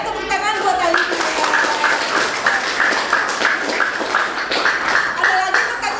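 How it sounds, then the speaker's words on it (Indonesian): A classroom of students claps briefly for a classmate after a correct answer, a short burst of scattered applause that mixes with a teacher's voice and children's chatter throughout. "Ya, tepuk tangan buat Alivia."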